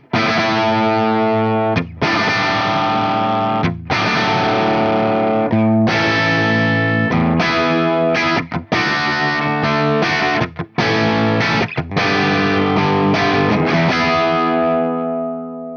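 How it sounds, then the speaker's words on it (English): An electric guitar plays through a Marshall Origin 20 head with the EQ set neutral, giving loud, distorted chords in sustained strums with brief gaps between them, bright and sharp in the high end, and no talking. "Here's an example how the amp sounds with a neutral EQ setting, like most of us would start with."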